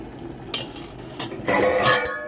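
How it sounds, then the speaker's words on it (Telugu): Chicken kurma in a metal pot is mixed with a spoon, giving a few clinks and scrapes, then a louder rattling clatter of cookware near the end. "కలిపేద్దామండి కలిపేసేసి మూత పెట్టి సిమ్లో ఉడికించుకుందాము"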